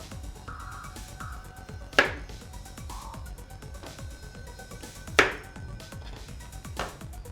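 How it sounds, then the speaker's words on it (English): Knife cutting a potato in a kitchen: steady, close, soft chopping strokes in a regular rhythm, with two sharper knocks against the board standing out, and no speech. "I'm going to cut a potato in a way that it has maximum surface area."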